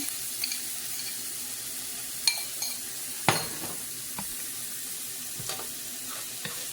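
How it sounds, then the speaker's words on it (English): Eggs hitting a hot pan alongside ham and frying, with a steady close sizzle broken by a few sharp crackles and spatters, no talk. "And I'm going to put my eggs in."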